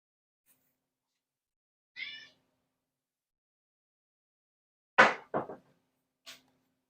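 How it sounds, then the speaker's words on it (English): A house cat meows a few times in a quiet room: one short call, then a louder pair of meows a few seconds later and a faint final one, with silence between. "My cat wants to say hi."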